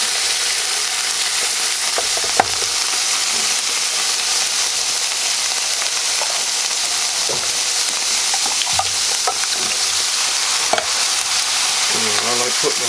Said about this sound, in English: Now, put in our sloppy joe sauce.